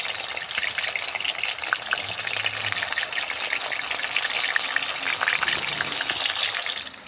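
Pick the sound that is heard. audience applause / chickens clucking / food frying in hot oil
food frying in hot oil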